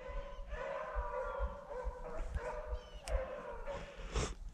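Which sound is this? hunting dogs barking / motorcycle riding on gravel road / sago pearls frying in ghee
hunting dogs barking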